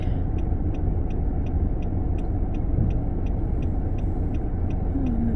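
Cars sit in a heavy detour traffic jam on a Canadian road, heard from inside a vehicle as a steady low engine rumble with faint repeating ticks, no voices.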